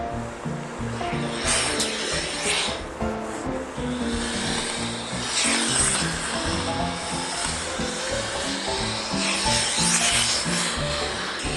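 A Cuckoo steam iron on its high steam setting: a loud, steady hiss of steam blasting continuously, with a rough rushing texture that swells slightly at moments.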